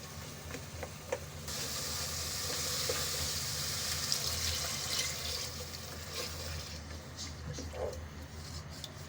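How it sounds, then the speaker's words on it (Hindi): Water is poured into a pot of chickpeas boiling for chana, a steady splashing, hissing pour that runs for several seconds close by before easing off, with no talk over it. "तो इस टाइम पे हम इसमें पानी ऐड करते हैं, फिर प्रेशर लगा देंगे।"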